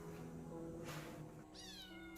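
Kittens being fed fish waste meow several times, high and close, over a faint steady background hum.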